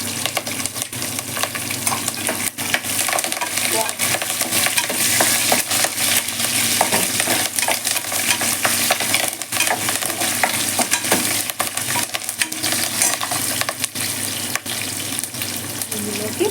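Green chillies and curry leaves fry in hot oil in a pan while being stirred, giving a dense, continuous sizzle with scraping stir noises, close and loud throughout.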